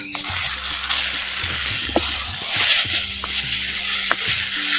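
Coarsely ground tomato hits a hot pan while a betel-leaf herbal rasam cooks, giving a loud, continuous sizzle with stirring and small splashes throughout, and no talk over it.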